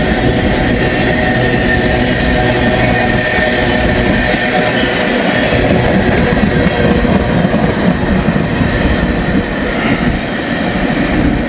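A BNSF freight train passes close by outdoors on a spring day, a loud continuous rumble of rolling cars and wheels with no voices.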